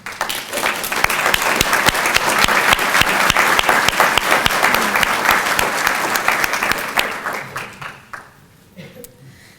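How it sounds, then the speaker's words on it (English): An audience applauds at a collegiate honor society event, giving a sustained round of dense clapping that stays loud for about eight seconds and then fades out quickly. "will you please stand for a round of applause?"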